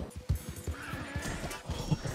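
A horse whinnies in the Red Dead Online video game, its neigh rising over thudding hoofbeats and clip-clops, with a couple of sharp impacts mixed in.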